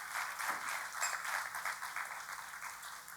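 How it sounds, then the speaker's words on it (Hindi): Steady applause from a church congregation welcoming newcomers, even and continuous, at moderate distance and fairly quiet. "तालियों के साथ इनका स्वागत करें।"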